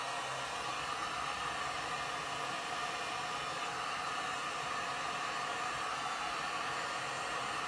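A heat gun blows steadily on a Wood U Bend moldable wood appliqué, a continuous even hiss of hot air, close and unbroken with no talk.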